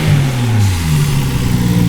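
A 1992 Nissan Skyline GT-R engine running without its air filters gives a quick rev that drops back toward a rough, noisy idle, loud and close with no voices.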